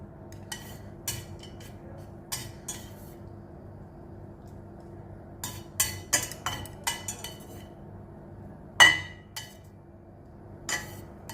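Utensils and dishes clink lightly as cooked chicken and spinach are put onto a plate, with scattered sharp taps and one louder clank near the end over a quiet kitchen background.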